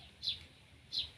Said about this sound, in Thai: เสียงนกหอน